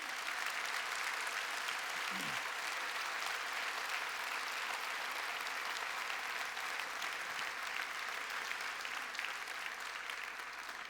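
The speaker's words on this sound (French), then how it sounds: "je vous demande vraiment un tonnerre d'applaudissements pour ces témoins" Sustained applause from a crowd at a May Day political speech by party president Georges-Louis Bouchez, dense steady clapping heard from some distance throughout, with a faint voice briefly rising under it.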